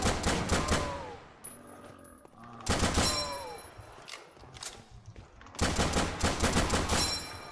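Rapid bursts of M1 Garand gunfire in the Roblox game, three loud clusters of shots separated by quieter gaps with faint game sounds in between.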